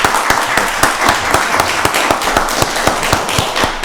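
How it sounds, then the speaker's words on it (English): A county board of commissioners meeting bursts into loud, sustained applause for a newly introduced director, with dense overlapping claps heard up close and no talking. "Let's give Director Peak another round of applause"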